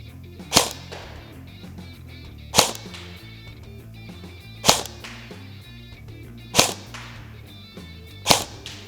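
An Echo1 XCR Polymer Short airsoft gun running on an 11.1V LiPo battery fires five sharp single cracks at roughly two-second intervals, loud and close against quiet background.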